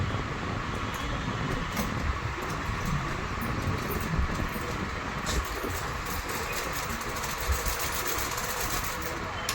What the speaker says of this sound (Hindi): अब हम बाजू का सिलाई करने के बाद हम साइड में सिलाई कर रहे हैं